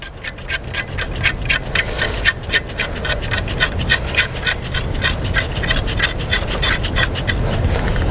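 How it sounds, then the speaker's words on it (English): A spark plug is threaded by hand into a BMW N54 engine, giving a steady run of quick, rhythmic scraping and ratcheting clicks close by, with no speech. "we can just insert it here again, easy, hand tight, has to be smooth all the way in"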